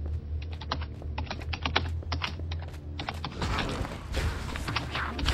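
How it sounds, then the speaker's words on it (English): Robert's computer keyboard clatters with rapid, uneven keystrokes, close and prominent, the taps growing denser and busier toward the end, with low thuds mixed in. "It's amazing how clearly Robert's keyboard is."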